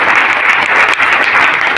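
Loud, dense applause from a seminar crowd, a continuous wash of clapping filling the whole moment.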